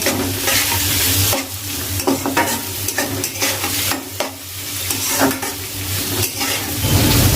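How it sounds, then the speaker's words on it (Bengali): Dried Bombay duck fish, onion and garlic fry with turmeric in a pan, hotel-style. A loud, continuous sizzle runs throughout, broken by frequent scraping stirs of the spatula against the pan. "এবারে সুটকি পেঁয়াজ আর রসুন খুব ভালোভাবে ব্রাউন করে ভেজে নিতে হবে"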